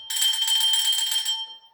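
A bright electronic bell chime rings once, sustained for over a second with a shimmering metallic tone, then fades quickly, heard alone and close.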